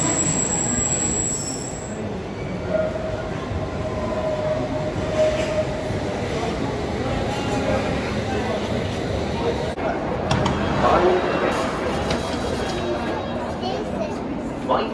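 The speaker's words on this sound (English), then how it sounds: "Mind the gap between the train and the platform." A London Underground train at Piccadilly station rumbles steadily and close by for the whole stretch, with a faint brakes-like whine and some rattling as it runs, and voices murmur beneath it.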